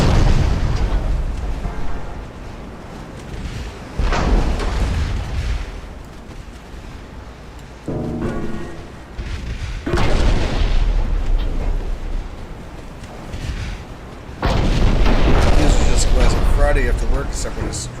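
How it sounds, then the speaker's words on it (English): Several ships fire naval guns at a battleship in Ultimate Admiral: Dreadnoughts, producing repeated heavy booms and rumbling blasts in loud bursts across the scene, with someone talking over much of the gunfire. "Too many ships firing at the battleship."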